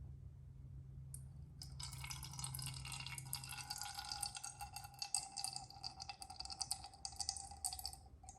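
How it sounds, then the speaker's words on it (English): Chlorophyll extract liquid, strained free of leaves, is poured into a cup. A steady close-up trickle and splash starts after a brief quiet moment and keeps going to the end, with no talking. "I'm going to take my liquid only and pour it out into the cup"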